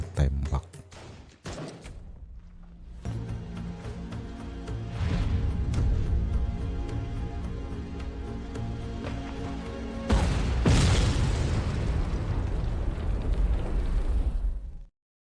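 A film battle scene between India and China plays out with rapid gunfire and heavy explosions, dense and loud rumbling that swells after a brief quiet opening.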